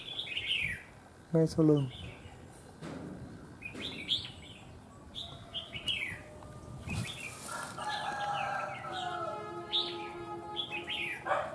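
Birds call outdoors beside a house, with repeated chirps and tweets and a rooster crowing in the mix. A voice speaks briefly among the calls.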